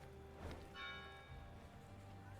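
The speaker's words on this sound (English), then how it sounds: "Town bell as well?" A town bell rings once in Thronebreaker: The Witcher Tales, a faint resonant strike with a lingering metallic hum fading over a quiet game background.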